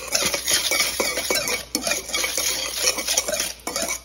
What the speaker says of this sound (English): I'm just gonna whisk it together.